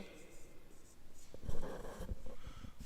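Chalk or marker writing on a lecture board, short scratchy strokes in a quick irregular rhythm, soft and close, while a lecturer speaks.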